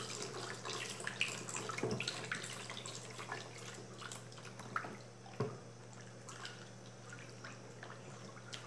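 100 ml of ethanol is poured slowly into about 2 litres of water, giving a faint, continuous trickle with occasional soft drips and splashes, quiet and steady.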